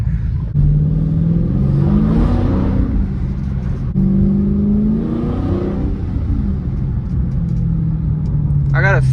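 A Dodge Charger Scat Pack engine revs repeatedly from inside the car, deep rumbling surges that climb and fall in two main pulls over a constant low drone, loud and close, with a brief voice.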